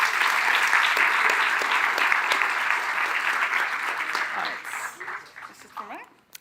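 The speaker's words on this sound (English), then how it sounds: "So please give them a warm applause again as well." Warm applause from a live audience at a discussion evening, a dense sustained clapping that carries on steadily before thinning out toward the end, with faint voices coming through near the close.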